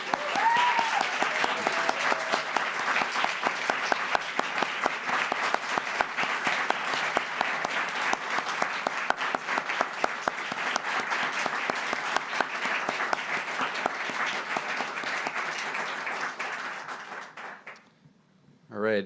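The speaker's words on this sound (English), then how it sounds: "Now we can applaud." Audience applause fills an Alpha Omega Alpha medical honor society induction ceremony, a dense, steady roar of many hands clapping for about seventeen seconds before it fades out and a voice begins.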